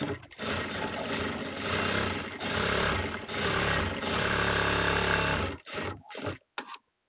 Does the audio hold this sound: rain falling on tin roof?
no